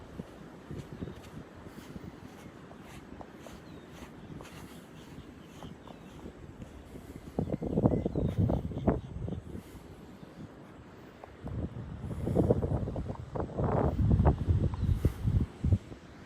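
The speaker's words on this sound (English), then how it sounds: "How's the wind noise today? Is it bad?" Wind buffeting a microphone while walking along a beach at Pawleys Island with the tide high, a steady low rumble swelling into louder gusty bursts twice, no talking.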